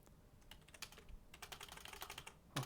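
Fast typing on a computer keyboard, a quiet run of uneven key clicks with brief pauses between bursts, close by and with no talking.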